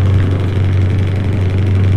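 Modified Scania V8 truck engine in Euro Truck Simulator 2, a steady, loud low drone with a throaty exhaust note, held evenly throughout with no speech.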